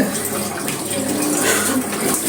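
Water runs steadily from a kitchen tap while rui fish is rinsed and cleaned with salt, a continuous close splashing rush that carries on through the whole moment.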